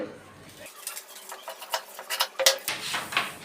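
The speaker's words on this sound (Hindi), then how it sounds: "अब इसे हम कटिंग कर लेंगे।" Scissors snip through blouse fabric while a three-piece princess-cut blouse is cut out, producing a quick run of crisp, close cuts that grow busier toward the end, with no talking.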